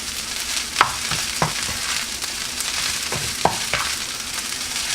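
Chicken fried rice, made with rotisserie chicken and lemongrass, sizzles in butter and sesame oil while being stirred, giving a steady loud hiss broken by a few distinct scraping strokes of the spatula.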